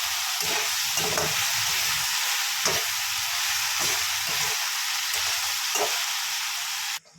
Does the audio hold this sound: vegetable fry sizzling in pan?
yes